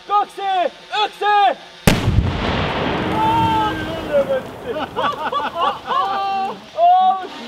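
A 3 inch cannon fires at a propane tank in a wet forest: one sudden, very loud boom followed by a long rumbling decay, with people talking before and after the shot.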